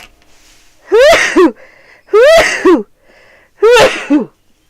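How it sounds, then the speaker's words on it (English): Three loud sneezes spaced about a second and a half apart, each a sharp burst with a quick double peak, close to the listener. "Uh-oh, sneeze."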